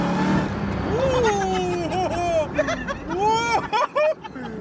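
Hellcat-swapped Mazda Miata revving hard through a burnout, engine note rising and falling before cutting out abruptly, with excited voices close by.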